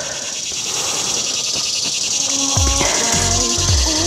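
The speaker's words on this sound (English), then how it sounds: "Is that the cicada? He's like literally right above us. He's loud." Loud, continuous cicada buzz directly overhead outdoors, a steady high-pitched drone filling the whole clip, with a few short animal-like bleats or calls breaking in near the end.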